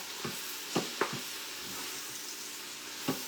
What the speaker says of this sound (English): I'm going to give this a little stir